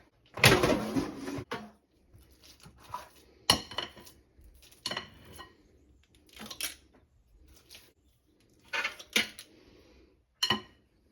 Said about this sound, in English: So I'm going to use my ice cream scooper to scoop this as patties into my air fryer.